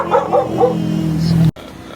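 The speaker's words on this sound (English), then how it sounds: "Oh, that's a cute little doggy." A small dog gives a few quick, close, high barks and yips, followed by a short whimper-like sound that ends abruptly.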